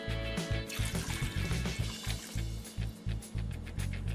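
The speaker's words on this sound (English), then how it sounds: "Now I'm gonna add a few cups of water." Water poured from a cup into a pot of curried egg and potato, a steady close pour with rhythmic glugging pulses, no talking.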